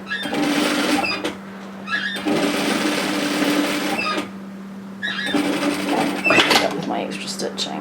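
Sewing machine stitching a seam on a bomber-style varsity jacket, whirring in three close bursts of rapid stitching with short pauses between, a voice talking briefly over it.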